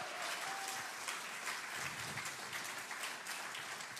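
A church congregation at an Easter Sunday service gives sustained applause, a dense, even wash of many hands clapping with faint cheering, heard from some distance and quite soft.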